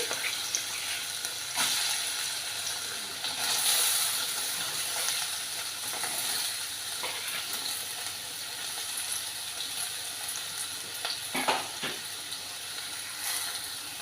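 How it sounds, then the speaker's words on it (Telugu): Cut potatoes fry in heated oil for a Telugu potato fry, giving a continuous close sizzle and hiss with a few brief louder crackles and stirring bursts. No voice is heard. "ఇప్పుడు ఈ బంగాళదుంపలు అనేవి కట్ చేసి ఉంచుకుని ఇందులో వేసుకోవాలి."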